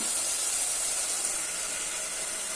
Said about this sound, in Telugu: ఉల్లిపాయలు తీసుకున్నామండి, దాన్ని ఫ్రై చేస్తున్నాం